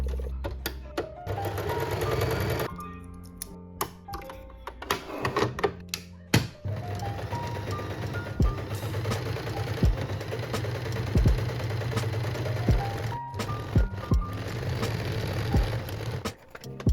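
A sewing machine stitches denim for a pair of jeans, running in a steady rapid chatter that keeps going with brief speed changes and stops, loud and close, with light workshop clatter around it.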